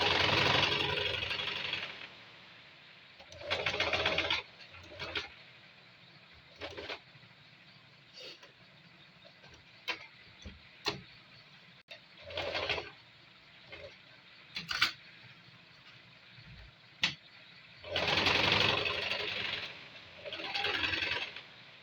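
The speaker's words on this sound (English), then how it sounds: "I'll take it to the sewing machine and sew it round." A sewing machine stitches around a rectangle of fabric while a single welt pocket is being made. It runs in several short bursts separated by quiet pauses and small handling clicks, with longer runs near the start and the end.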